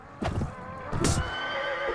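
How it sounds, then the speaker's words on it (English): A wounded horse in the video game Clash of Kings Warband mod whinnies loudly and close, two sharp neighs about a second apart with hoof clatter, then a sustained tonal cry trailing off. "My horse took a spear to the face."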